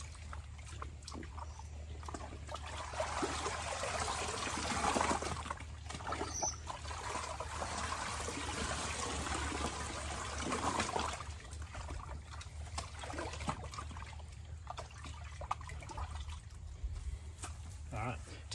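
Liquid trickles and sloshes around a deer hide in a tanning container, a continuous faint splashing with occasional louder swishes, while someone talks quietly over it.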